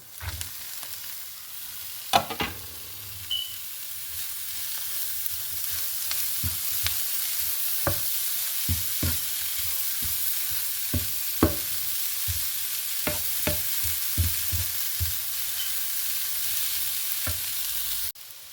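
Grated carrot, about three medium carrots, stir-fries in a pan with a constant close sizzle, punctuated by scattered sharp clicks of a spatula scraping and tossing throughout.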